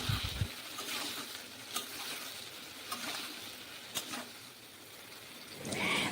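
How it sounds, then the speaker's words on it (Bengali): Eggplant pieces frying in hot oil in a pan, a soft steady sizzle with a few sharp stirring clicks, moderately faint and without speech. "যে তেল রয়েছে এই তেলের মধ্যে দিয়ে দেব বেগুনগুলো।"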